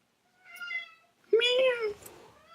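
A cat meows twice, a shorter call followed by a louder, longer drawn-out meow, close and clear against a quiet room.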